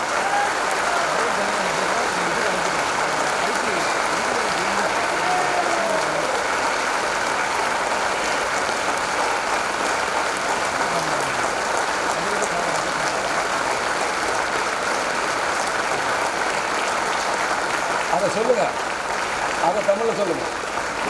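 An audience stands and applauds at a public function attended by India's Vice President, a steady dense roar of clapping sustained throughout, loud and continuous with a few brief voice sounds near the end.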